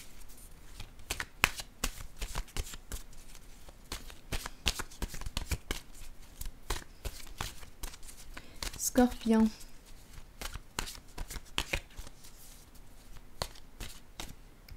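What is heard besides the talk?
shuffling tarot cards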